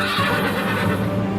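A horse whinnies in a loud, wavering neigh used as a sound effect in a narrated story, close and full, with a quick trembling pitch that lasts over a second, no speech over it.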